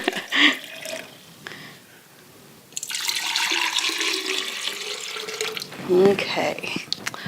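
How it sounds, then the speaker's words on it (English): Water is poured into a container for a flower arrangement with tulips, a steady splashing gush that starts partway through and runs to the end after a quieter stretch of faint clatter. "Add a little bit of water to this."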